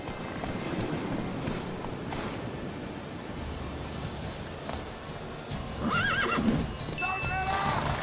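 Horse neighs twice in The Witcher 3, whinnies rising over a steady rush of hoofbeats and movement noise, moderately loud and close, with the second call fainter.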